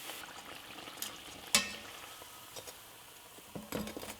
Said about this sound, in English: we're going to fry it on both sides for a couple minutes until nice and golden brown